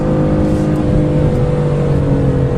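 A 2015 BMW M3 or M4 accelerating hard down the straightaway at Road America race track, its engine a loud, steady, close drone with no audible talk.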